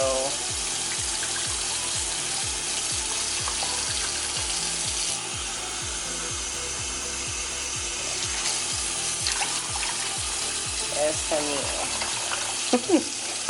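Tap water runs steadily into a measuring cup for cooking rice in a home kitchen, alongside a repeating mechanical ticking and some clinks, with brief faint voice sounds near the end.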